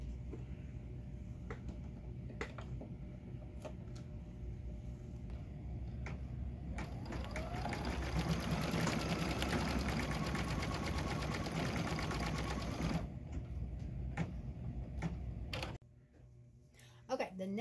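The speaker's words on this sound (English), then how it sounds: "So now I can rethread with the white and let it finish stitching the detail on" An embroidery sewing machine stitches appliqué detail, a fast mechanical whir with steady rhythmic needle ticking that swells, runs loudly for several seconds, then drops away.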